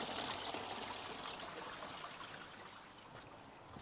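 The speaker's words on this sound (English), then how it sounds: "water just flows straight back down the screen" Water from an Oase Screenmatic2 pond filter with a blocked screen runs straight back down the screen, a steady close trickle that fades slightly toward the end, with no talk.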